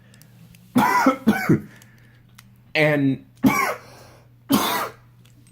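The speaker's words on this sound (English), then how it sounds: "got a little cough" A person coughs several times close to the microphone in short harsh bursts with pauses between, and one brief spoken word breaks in among them.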